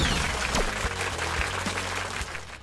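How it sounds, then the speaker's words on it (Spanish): Audience applause welcoming the physicist Niels Bohr, a steady wash of clapping with a low hum underneath and a few brief tonal sweeps mixed in, moderately loud throughout. "Recibamos con un fuerte aplauso"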